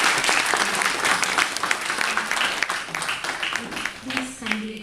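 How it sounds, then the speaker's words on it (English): Audience applause at a book launch in New Delhi, steady dense clapping from a seated crowd, moderately loud and sustained for several seconds, with a voice briefly audible near the end. "I request everybody present here to applaud Dr."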